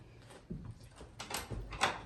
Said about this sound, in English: Oh, the front door.